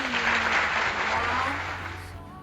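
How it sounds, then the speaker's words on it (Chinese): Brief applause at the end of a home cooking show for chicken curry, a short burst of hand clapping that fades out over about two seconds, with some faint voice mixed in. "掌声鼓励鼓励。"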